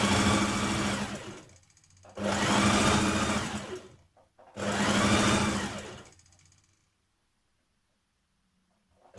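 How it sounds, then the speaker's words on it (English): A sewing machine stitches the back skirt panels of a Simplicity 2247 dress together in three loud, close bursts of rapid whirring, each separated by short pauses, then falls silent. "Stitch your back skirt panels together from the notch here down to the bottom"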